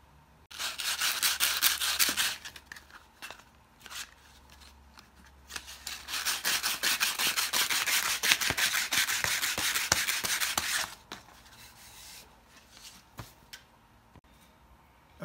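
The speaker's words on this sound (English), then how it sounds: "Okay, I'm going to sand that up now." Sandpaper rubbing back and forth on a wooden pitchfork handle: two long bursts of rapid rasping strokes, close and steady, separated by a short pause, then quieter scattered scrapes and taps.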